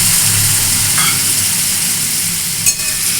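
Bitter gourd sizzling loudly in a pan as a little water is added, a continuous close hiss with a brief clink near the end, no voices.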